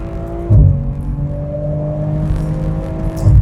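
A 2022 BMW M440i xDrive Gran Coupe with the 3.0 mild-hybrid engine pulls hard in third gear in sport mode. After a quick shift thump, the engine note climbs steadily in a loud, smooth rising drone heard from inside the cabin.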